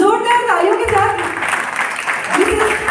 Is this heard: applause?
yes